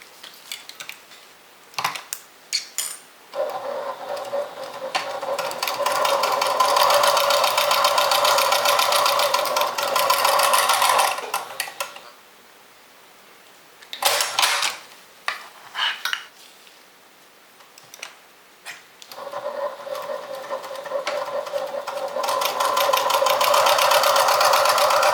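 Sewing machine top stitching along the folded edges of a fabric makeup and toiletry bag, running in several long steady bursts with short pauses between, close and loud, no talking.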